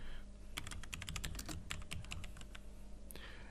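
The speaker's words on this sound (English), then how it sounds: "So if I type something" Typing on a computer keyboard, a quick run of close, crisp key clicks lasting a few seconds over a faint background hum.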